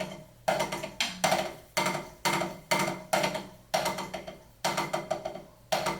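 A drumstick bouncing on a practice pad with its gel pad removed, struck in repeated bursts of quick rebounding hits that decay in each group, close and loud with no talking.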